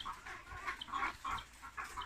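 Chickens cluck softly in a layer poultry house during hot weather, with a few faint, repeated low calls over a quiet, slightly hollow background and no talking.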